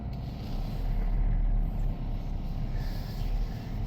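A Renault Espace 4 reverses to park, heard from inside as a low, steady engine rumble with a soft, even hum and no other sounds.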